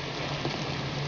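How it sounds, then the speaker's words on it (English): Hard rain pours on a city sidewalk outside a bookstore, a dense, even hiss of falling water with a faint low hum beneath it and no voices. "And it's raining pretty hard."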